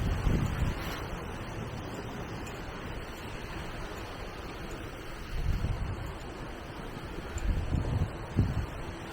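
Gusts of strong wind buffet a parked motorhome during a wind storm, a steady broadband roar with low rumbling surges near the middle and end.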